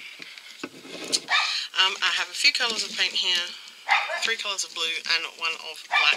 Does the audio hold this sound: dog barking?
yes